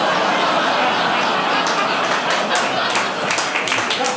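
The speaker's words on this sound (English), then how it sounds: "You're applauding him, okay?" Applause from a live audience at a solo storytelling comedy show, a dense continuous patter of clapping with scattered louder claps near the end, mixed with faint chatter and chuckles.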